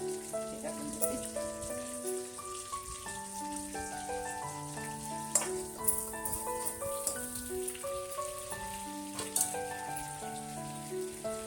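Ginger pieces dropped into a hot pan while cooking dal bukhara give a steady, hissing sizzle that runs throughout, partly under prominent melodic background music.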